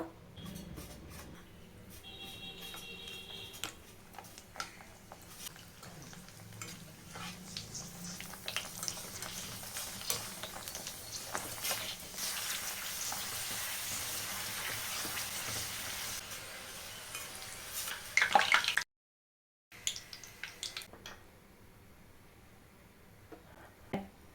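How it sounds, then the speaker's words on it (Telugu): Papdi, the small puris for pani puri, fry in warm oil already used for onion pakoda, a soft steady sizzle with faint crackling and occasional clinks, briefly cut to silence near the end. "గోరువెచ్చగా ఉన్న ఆయిల్లో ఈ పాపడిని అయితే ఫ్రై చేసేసుకుందాం"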